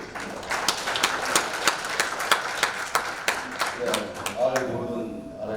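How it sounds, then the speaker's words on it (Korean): Audience applause at a Rotary training seminar in Goyang, dense claps filling a hall for several seconds before fading into a lone voice. "큰 박수 이렇게 부탁드리겠습니다"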